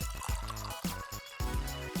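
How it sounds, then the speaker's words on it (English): Water poured into a plastic bottle, a short gurgling, trickling fill with quick irregular splashes, close up and quiet. "Pour water into the bottle."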